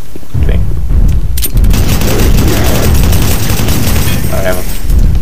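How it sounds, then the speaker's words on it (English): Gunfire and explosions from a rocket launcher fill the Doom 3 video game, with a loud continuous barrage of booms and blasts that mask the background, while a player's voice occasionally talks over it. "I have a rocket launcher."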